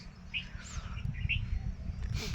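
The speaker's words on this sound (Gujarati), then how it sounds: "પક્ષીનો કલબલાટ પણ બહુ સુંદર છે પક્ષીનો અવાજ પણ બહુ સારો આવે છે" Birds chirp in a calm evening setting in Gujarat, with several short, bright calls scattered over a low background rumble.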